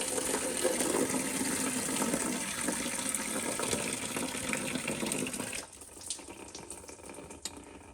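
Fluid draining from a 6.0 Powerstroke engine into a bucket during a head gasket teardown, a loud, steady gushing pour that suddenly drops to a thin trickle near the end.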